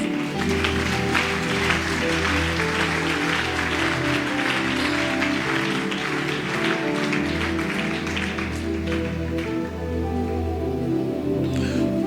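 A church congregation bursts into loud, sustained applause, dense clapping filling the room steadily for several seconds with no voices standing out.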